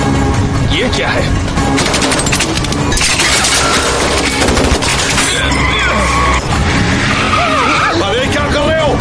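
Bursts of rapid gunfire crackle amid a chaotic scene with engines, skidding and shouting voices, loud and continuous throughout.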